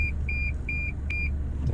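Parking sensor beeps from a Toyota Innova Venturer reversing into a parking space, a steady series of short evenly spaced high beeps over a low idling engine hum, no talk.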